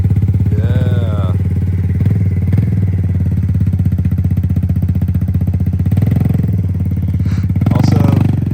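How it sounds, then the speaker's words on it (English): A semi-automatic dirt bike engine with no clutch runs steadily close by, a loud, even, rapid putter with slight rises in revs. "it's a semi-automatic dirt bike"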